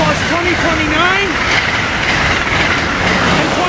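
A SEPTA commuter train passes the Cornwells Heights station at rush hour, rumbling loudly and continuously, with squealing wheels and rail noise throughout.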